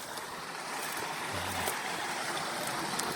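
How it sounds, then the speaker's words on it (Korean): Steady broadband rush of water from a small waterfall tumbling into a wide pool in a mountain valley stream, constant and fairly loud with no voices. "계곡 중간에 멋진 폭포와 소가 있습니다."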